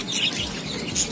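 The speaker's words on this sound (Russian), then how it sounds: "О, тут еще попугаи." Parrots at a bird market give short, high chirps in a brief burst, moderately loud and set against a busy, noisy background.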